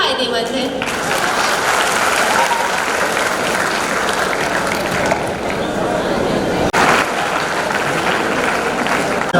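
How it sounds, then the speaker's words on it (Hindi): An audience at an IERT civil engineering freshers' event claps loudly and continuously for several seconds, a thick wash of hands with a brief break near the end, while a voice speaks over it. "तो बांटिए खुशियां ताली बजाकर"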